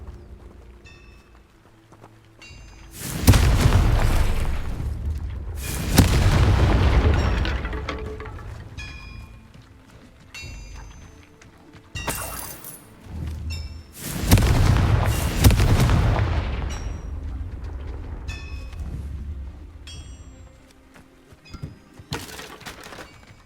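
Confringo fire spell blasts in Hogwarts Legacy: four heavy, booming explosions spaced a few seconds apart, each with a roaring tail, plus lighter clicks and game effects between them.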